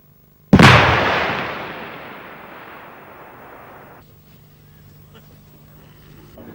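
An AT-12T anti-tank weapon fires live at an explosive reactive armor target, producing a single sharp, loud blast that decays into a long rumbling tail, followed by faint distant background noise.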